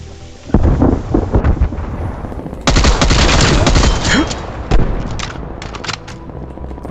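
Sustained enemy gunfire in the multiplayer shooter Call of Duty Black Ops Cold War, loud dense bursts and rattling automatic fire with explosive booms, continuing almost without pause.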